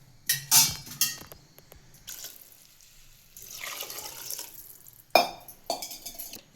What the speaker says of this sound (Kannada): ಇದಕ್ಕೆ ನೀರು ಹಾಕೊಳ್ಳೋಣ